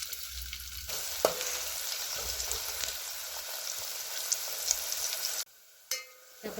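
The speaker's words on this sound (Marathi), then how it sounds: "पातेलं ठुले गरम करायला तेल ओतून घेऊया यात तमलपत्र टाकले बारीक चिरलेला एक कांदा टाकूया" Chopped onion frying in hot oil with a bay leaf in a pan for chicken rassa, a continuous close sizzle with a few sharp clinks, then a sudden drop to near quiet before the hiss briefly returns.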